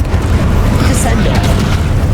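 A Descendo spell slams down with a loud, sustained low boom during Hogwarts Legacy combat, its dense rumble filling the entire short moment without any break.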